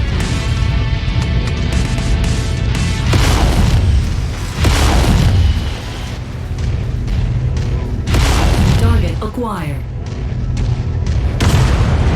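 A generator blows up in Mechwarrior 5 with heavy, rumbling booms, layered over the constant drone of battle and bursts of weapon fire, while a voice speaks.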